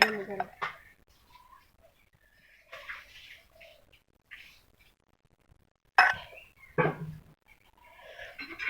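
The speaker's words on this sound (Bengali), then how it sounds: "এখন নামিয়ে নিলাম বাটিতে" Fried water spinach cooked with potato is scooped from a pan into a bowl in a village home kitchen, giving a few sparse clinks and scrapes of utensil against cookware, with quiet gaps between them.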